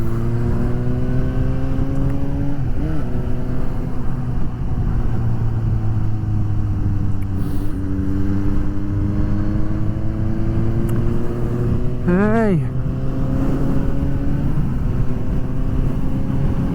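A Suzuki GSX-S750 AL9 motorcycle engine drones loud and steady through a continuous ride, its pitch gliding up and down through gear changes. A couple of sharp revving surges stand out, and a brief voice is heard.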